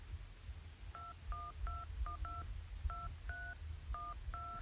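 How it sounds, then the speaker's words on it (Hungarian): Phone keypad tones play a simple tune, meant to be tapped out on a Nokia handset: a run of short, evenly spaced paired beeps of varying pitch over faint room noise, with no talk. "a Nokiával jobban be lehet hallatni, mert iPhone-on már nem tudok a billentyűkre hangot adni"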